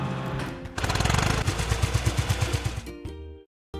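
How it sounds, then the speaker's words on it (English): Hydraulic drill at a construction site hammering in a fast, steady series of loud pounding blows for a few seconds over engine noise, then cutting out abruptly into silence. "Hydraulic drill."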